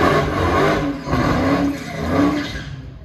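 A Dodge Hellcat at a drag track at night gives a loud, throaty exhaust roar that surges and falls in a few rev pulses before tapering off.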